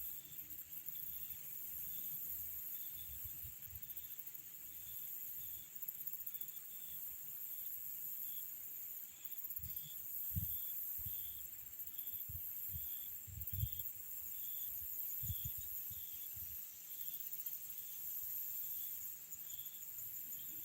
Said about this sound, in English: Even the cicadas and grasshoppers don't sound as loud.